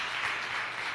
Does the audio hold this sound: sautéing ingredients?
no